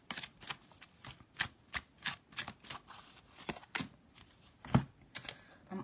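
Lenormand and oracle cards are shuffled and drawn by hand in a quiet room, with a steady series of soft, close riffling and snapping flicks at a regular pace.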